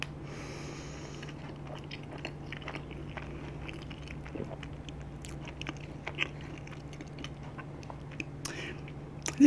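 Someone chews carbonara cream cheese pizza close to the microphone, with soft wet bites and mouth noises over a quiet steady hum.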